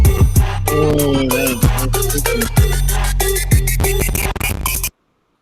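Hip hop track with booming bass, punchy drum hits and layered melodic samples, playing loud and full for about five seconds before cutting abruptly to silence.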